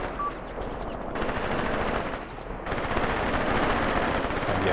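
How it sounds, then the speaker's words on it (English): Sustained machine gun fire in the WWII tactical war game Graviteam Tactics: Mius, dense rattling bursts that run almost continuously, loud and close, with a short lull near the middle before firing resumes. "Once machine guns really start to home in on your position"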